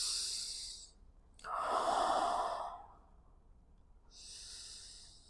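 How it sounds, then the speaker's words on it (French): Slow, audible breaths during a gentle spine-mobility yoga exercise: a soft airy exhale fading out, then a fuller drawn-in inhale, followed by another quiet breath, close and unhurried with no talking. "on inspire."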